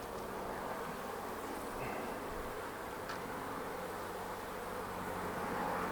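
Honeybees buzz around a hive while an artificial swarm is united with it, a dense steady drone that fills the whole stretch without pause.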